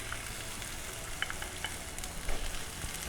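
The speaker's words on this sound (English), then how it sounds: "Add chopped onions" Chopped onions frying in a pan with ginger and garlic, a steady soft sizzle with a few faint stirring clicks near the middle and end.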